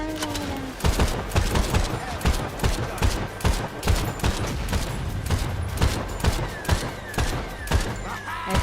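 Rapid gunfire in the video game Crime Boss: dense, repeated bursts of shots across the whole stretch, loud and punchy, with many sharp cracks in quick succession and no speech.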